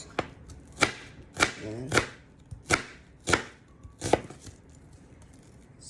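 A kitchen knife chops onions on a board in about seven crisp, close strikes at an uneven pace, and a voice briefly says a word between cuts.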